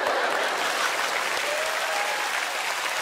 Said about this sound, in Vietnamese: xin mời một tràng pháo tay cho người chơi Hứa đang lên